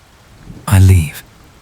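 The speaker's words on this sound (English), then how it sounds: "The rain has started again, light and steady." Light, steady rain falls outdoors as a soft, continuous hiss, briefly covered by a louder, tonal sound in the middle.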